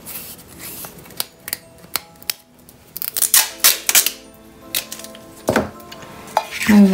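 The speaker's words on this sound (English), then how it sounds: "Get another piece of tape." Tape being handled, pulled and torn against a tin while making a polar bear desk tidy, heard as a close run of sharp clicks, crinkles and ripping bursts with no talk.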